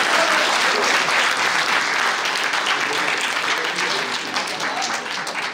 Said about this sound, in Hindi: एक बार तमकीन खदीब साहब के लिए जोरदार तालियां बजा दीजिए।